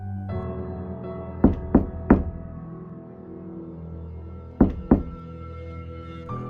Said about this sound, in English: someone knocked on the front door at 11:40 on a Sunday night